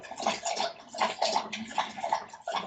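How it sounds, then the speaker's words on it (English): Water runs and sloshes steadily, like a bathtub filling or being washed, with uneven surges of splashing and gurgling that last the whole moment. "water noises in the background"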